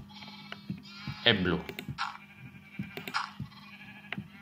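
Minecraft sheep bleat once, loud and close, wavering over a quiet game background while someone talks before and after it.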